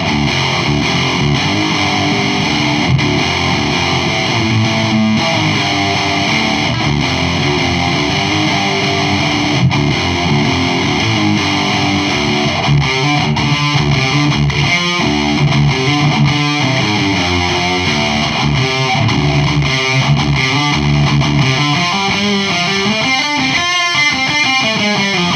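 A Randall Diavlo RD1H guitar amplifier with gain fully cranked roars with thick distorted guitar, chords and riffs played loud and continuous with no speech.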